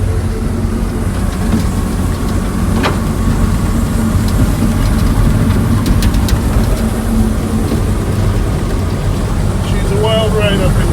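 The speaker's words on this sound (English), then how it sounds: "I gotta shut this chipper off" A wood chipper runs loud and steady, a dense roaring drone with rattles and clanks. A brief squeal rises near the end.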